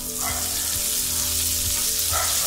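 Curry leaves and green chillies fry in a pan for lemon rice, giving a steady broadband sizzle with a few soft stirring knocks, close and continuous, with no talking.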